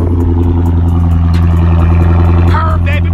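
Lexus LS460 engine idling in a steady low rumble up close, loud and even, while someone talks excitedly over it.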